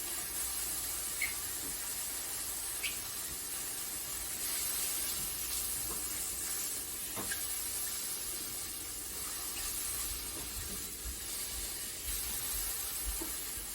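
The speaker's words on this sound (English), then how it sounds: "Now, a lot of liquid has entered the pan and it's just slowly burning off." Mushrooms cook down in a pan as their released liquid slowly burns off, giving a steady close hiss and sizzle with occasional faint pops and spits running throughout, with no talking.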